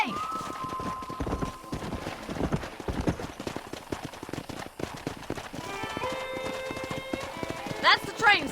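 Horse hooves clip-clop at a steady gallop in the Red Dead Redemption video game, a dense rapid beat running throughout, with a train-like horn tone and sharp clicks joining near the end.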